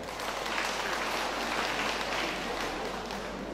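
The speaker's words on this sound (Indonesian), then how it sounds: "tepuk tangan juga." Steady crowd applause filling the whole stretch, dense and even, with no clear voices over it.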